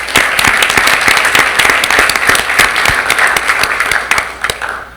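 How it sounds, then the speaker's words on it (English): Audience applause at a Rockwood School District board of education meeting honoring teachers of the year: a loud, dense burst of many hands clapping indoors, sustained for several seconds and thinning slightly at the end. "Let's give them a round of applause."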